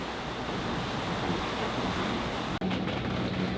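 Ocean waves and wind rush steadily around a sailboat under sail, a constant broadband roar of water and gusting wind buffeting the microphone, with a brief dropout near the end.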